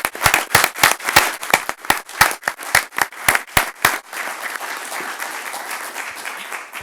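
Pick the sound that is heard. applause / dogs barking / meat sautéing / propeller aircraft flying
applause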